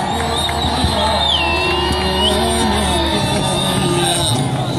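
A crowd at a modified car show exhibition cheering loudly and steadily throughout, with an announcer's amplified voice carrying over the continuous roar.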